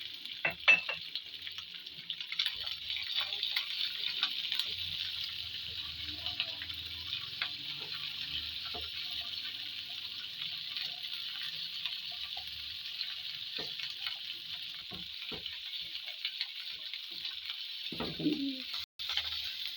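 Green chilies, garlic and ginger fry in hot oil for a homemade chili sauce, giving a faint, steady sizzle throughout with occasional stirring scrapes and a soft clunk near the end.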